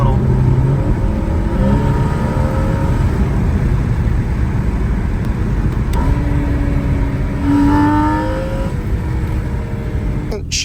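A car fitted with a straight-pipe exhaust revs loudly, its engine note rising and falling in a couple of surges over steady road rumble, with a voice talking underneath.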